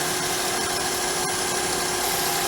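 A wood lathe spins a small Christmas tree ornament ball while a tool cuts a steep-sided bead, giving a steady motor hum with a continuous cutting hiss, even and close, with no talking.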